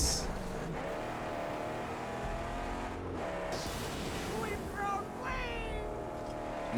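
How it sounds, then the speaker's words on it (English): Aggressive car engine exhaust from a vehicle in a video game, a steady loud rumble with revving pitch sweeps and rising tones, with a person talking over it. "Not gonna lie, I am loving this exhaust."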